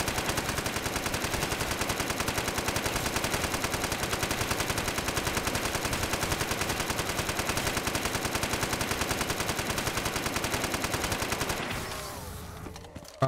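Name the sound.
Browning machine gun firing in Call of Duty Custom Zombies video game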